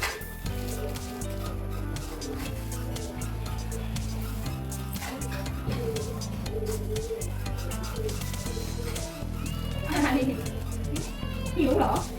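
A domestic cat meows repeatedly at a Thai household while someone talks over it, the cries rising through the middle and end amid steady background hum.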